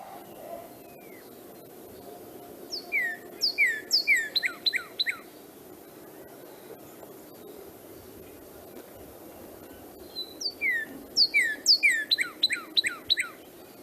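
Two bursts of clear, slurred whistled bird phrases, a series of rapid down-slurred notes in each, over a steady low background rumble; a female northern cardinal singing in winter.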